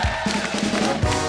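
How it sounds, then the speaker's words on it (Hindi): A studio audience applauds and cheers on a Kapil TV comedy show in a short, dense burst of clapping and crowd noise. "जोरदार तालियां हो जाए एक बार।"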